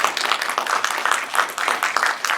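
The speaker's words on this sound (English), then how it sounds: "Let's give them a big round of applause." Audience applause at a Los Angeles Comic-Con 2024 panel on MENA representation in arts and entertainment, a short burst of dense, steady clapping from a crowd, fairly loud and close.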